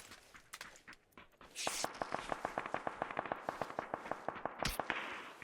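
Rapid bursts of PUBG gunfire, sharp repeated cracks in a fast rhythm after a quieter start, loud and close.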